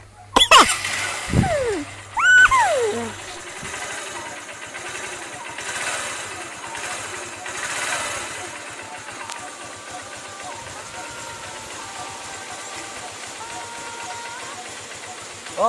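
A motorbike engine starts with a loud sputtering burst, then settles into a steady, close idle that runs on underneath people talking and calling out.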